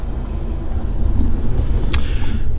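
A large truck pulling a trailer bin loaded with scrap metal salvaged from a mobile home rumbles steadily as it drives off, a broad low drone with a brief clank partway through.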